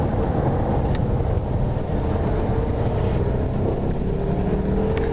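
A Porsche Panamera twin turbo accelerates in sport mode, heard from inside the cabin as a continuous deep engine drone with a throaty rumble that builds steadily.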